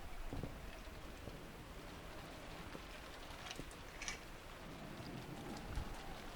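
Steady rain falls throughout a scene in the visual novel game Umineko: When They Cry, a continuous soft hiss with a few faint patters and brief dull taps, no voices.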